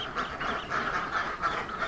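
Several ducks quack repeatedly and fairly close, a steady run of nasal calls filling the clip with no one talking.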